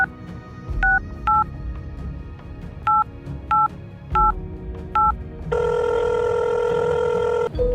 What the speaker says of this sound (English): she took the telephone and dialed a number